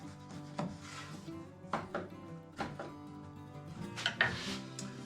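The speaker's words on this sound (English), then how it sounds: "Tidy this up a little with my chisel." A steel chisel paring and scraping wood on a workbench, a series of short rasping strokes and soft knocks at a steady hand pace, close and fairly quiet.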